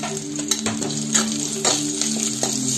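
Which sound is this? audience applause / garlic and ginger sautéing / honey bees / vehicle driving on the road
garlic and ginger sautéing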